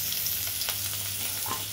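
Kadai chicken fries with spices, onion, tomato and ginger in a kadai, giving a steady, close hiss and sizzle with a few soft stirring scrapes throughout.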